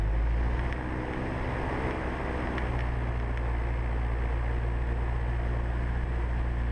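Cessna 172 engine held at 1800 RPM during a pre-takeoff run-up, a loud steady propeller and engine drone heard from inside the cockpit, constant throughout with no speech.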